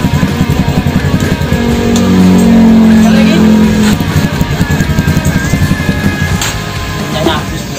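A Kawasaki KLX or D-Tracker dirt bike, fitted with a Domino starter button and a YZ quick-action throttle, runs loudly close by. A steady, throbbing idle swells into a held rev midway, then settles back, with faint voices underneath.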